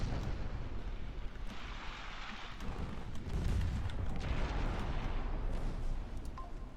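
Naval combat in Ultimate Admiral: Dreadnoughts, with low, continuous rumbling explosions and booming blasts from ships and torpedoes, a dense, muffled roar at moderate level with no speech.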